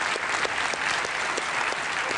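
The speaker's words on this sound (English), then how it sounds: "So please grant a warm applause to Mr. Shibata." An audience at a Nintendo 3DS preview event in Amsterdam bursts into warm applause, a dense, steady wash of many hands clapping at once that fills the room without pause.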